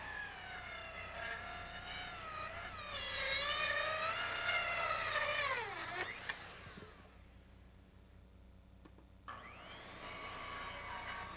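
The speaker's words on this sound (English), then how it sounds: "I square up a cut line from the chalk line and make the cuts." A power saw cuts treated lumber for a deck, its close, whining tone sagging in pitch through the cut before stopping, followed by a quiet gap and the saw spinning back up.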